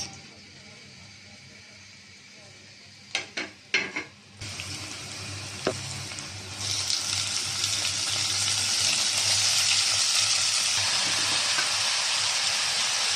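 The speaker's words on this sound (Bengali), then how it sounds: "মূলা ভাজি বসাবো তেল দিয়ে দিলাম পেঁয়াজ কুচি দিয়ে দিলাম কাঁচামরিচ" Chopped onion and green chili hit hot oil in a pan for radish fry, bursting into a sudden sizzle after a few clinks, then swelling into a loud, steady hiss that keeps building.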